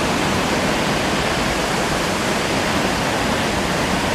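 A small stream, a tributary of the Minho River, rushes in a dense, even hiss of flowing water, loud and close with no other sounds.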